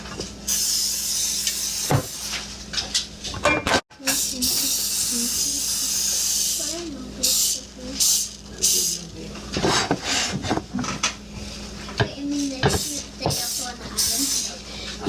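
Bursts of hissing spray from a bottle in a home kitchen, several short puffs mixed with clatter and handling noises, with a voice and other talk over it.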